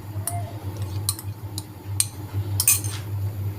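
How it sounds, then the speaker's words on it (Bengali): Gentle stirring of chowmein ingredients in a cooking pot, with scattered light metallic clinks and scrapes of a utensil against the pot over a steady low hum, no talking. "এখন আমি আলতোভাবে সবগুলো নেড়ে চেড়ে নিচ্ছি"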